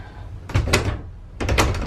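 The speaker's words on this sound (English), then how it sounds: "He put the ball and latch at the top. So I don't know if I told you guys, but it was kind of like flimsy, but now the door closes just like that." A French closet door with a ball latch fitted at the top bangs shut twice, each a sharp thunk with a short rattle, close by and fairly loud against a quiet room.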